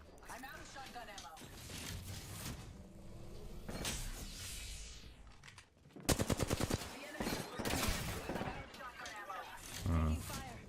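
Gunfire in the battle-royale shooter Apex Legends: rapid automatic bursts and single shots, with a dense run of fast shots in the second half, layered with mechanical game sounds and a voice talking over the action.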